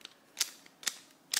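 Fanxin mirror blocks cube being turned, giving three sharp plastic clicks spaced roughly half a second apart, close and fairly faint, with no voices.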